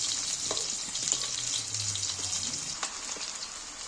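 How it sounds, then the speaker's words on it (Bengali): Potatoes fry slowly over low heat in a pan, giving a steady, moderate sizzle with faint crackles and light pops throughout, close and without talk. "এইবার আমি আলুগুলো তুলে দিচ্ছি আলুগুলোকে আস্তে ভালো করে ভেজে নিব"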